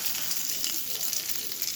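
Cabbage stir frying in butter on a fast-cooking stove: a dense, continuous sizzle, close and even, with no talk over it.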